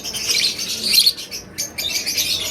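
Fire blue opaline and green opaline pale fallow birds chirp nearby in quick, high, bright twitters that come in a few close bursts separated by a brief pause.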